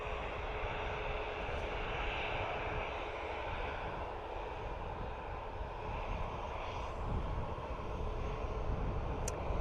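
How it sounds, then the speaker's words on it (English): An Aer Lingus airliner departing Dublin Airport for Birmingham produces a continuous, fairly distant engine roar that holds steady throughout. "We have Aer Lingus off to Birmingham, a flight I've taken many times."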